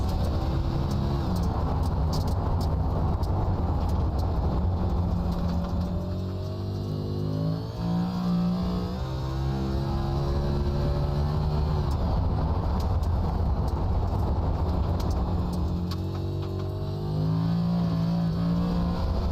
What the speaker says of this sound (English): He steps on it, so we'll watch him throw this car around.